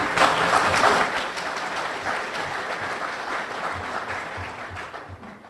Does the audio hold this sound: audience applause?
yes